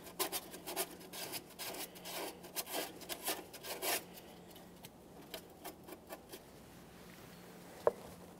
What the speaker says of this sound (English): we'll use some fine sandpaper on the mounting point here